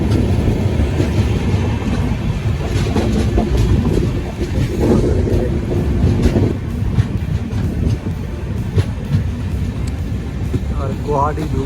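A moving passenger train carriage on the Howrah to Guwahati route rumbles steadily with rhythmic wheel clatter and wind buffeting, close and continuous throughout.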